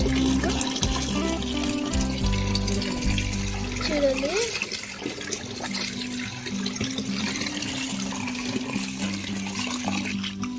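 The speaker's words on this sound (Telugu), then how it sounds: "ఇది ఇట్లా బకెట్లో వేసి మంచిగా కడుక్కోవాలి" Gongura leaves being washed in water in a bucket, with sloshing, trickling water close by under a speaking voice.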